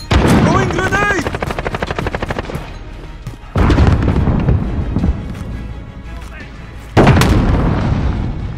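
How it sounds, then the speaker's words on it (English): Grenades explode in Call of Duty Modern Warfare: two loud, close booms with rolling rumble land seconds apart, over helicopter rotor noise and bursts of gunfire. "Throwing grenade!"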